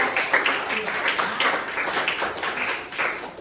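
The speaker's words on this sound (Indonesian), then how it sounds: "Oke, tepuk tangan untuk kelompok." A classroom audience applauds a group of students during a lesson. The clapping is scattered but steady, with overlapping claps at moderate level throughout and no clear pauses.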